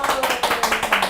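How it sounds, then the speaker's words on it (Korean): Short burst of rhythmic clapping from a small audience at a healing talk show, a few distinct claps in a loose even beat, fairly close. "박수 한번 보내주세요"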